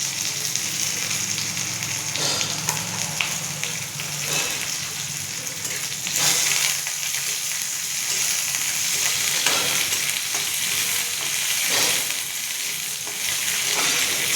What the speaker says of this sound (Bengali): এবার আমি একটু পেঁয়াজটা ভালো করে ভেজে নেব